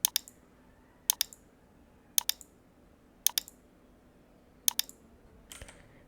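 Computer mouse clicks, sharp crisp clicks in close pairs repeating at steady one-second intervals, near and clear over a quiet background hum.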